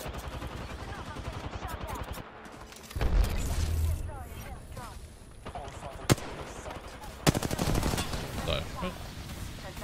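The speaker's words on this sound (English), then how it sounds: "Where did that nade come from?" A grenade blast in Apex Legends: a heavy, booming burst erupts about three seconds in, among scattered gunfire and game effects, with sharp cracks afterward and players talking over it.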